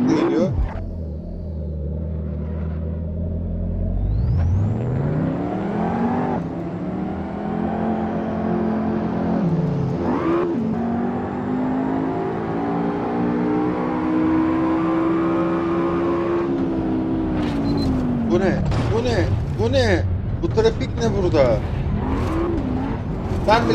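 A McLaren engine in the racing game Assetto Corsa revs loudly and repeatedly, climbing and falling through the gears in long sweeping pulls, with a rough idle at the start and choppy throttle blips near the end.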